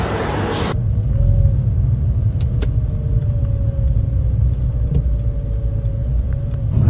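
Steady low rumble of a car moving slowly through traffic jams after leaving a shopping mall, heard from inside the cabin, continuous and droning with a brief louder rush at the start.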